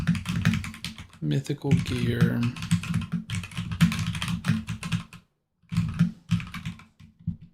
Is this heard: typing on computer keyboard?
yes